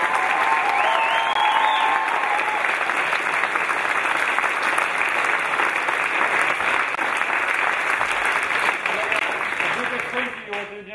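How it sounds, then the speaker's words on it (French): An audience applauds the musicians behind a CD, loudly and steadily for about ten seconds, with a few voices and a brief tone at the start, then fades as the clapping tapers off. "Je propose de les applaudir très fort pour les impacts."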